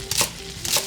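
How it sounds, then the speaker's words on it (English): Carrots and celery are chopped in two quick knife strikes on a cutting board, close by, over a faint background hum. "we're gonna just chop up some of our vegetables here. Got our carrots, and now some celery"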